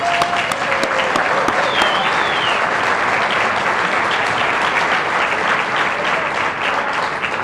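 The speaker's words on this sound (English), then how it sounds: "So give her a round of applause for Alicia as well." Sustained applause from the audience at a chamber of commerce annual meeting, a dense, steady wash of many hands clapping at full strength throughout with no break.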